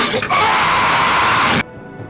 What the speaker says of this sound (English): both guys started screaming at the same moment